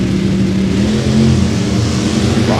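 A Chevy S10 drag truck with a small-block race engine roars at a drag strip, a loud sustained rumbling engine note with a rising rev toward the end.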